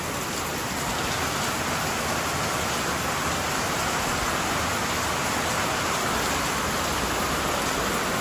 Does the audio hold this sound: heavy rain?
yes